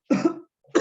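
A single close, loud cough bursts out, followed after a short pause by the start of a second cough, during a Spanish-language sermon on the first letter to Timothy.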